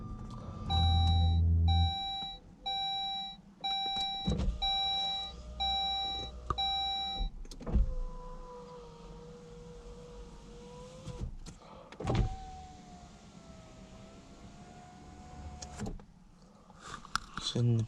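Car electric power window motor runs in short whirring bursts while the stuck glass moves up and down, close and fairly faint. A repeating electronic beep sounds at the start, and there are a few clunks.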